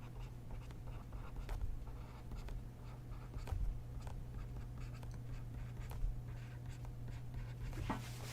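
Pen or marker scratching continuously as an equation is written out by hand during a quantum mechanics lecture on multielectron atoms, with a steady low hum beneath and a few sharper taps and strokes, no talking.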